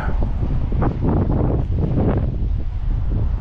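Steady wind blows across a microphone outdoors during a ring and coin search on a beach, a continuous loud rushing roar with gusty rumble and no talking.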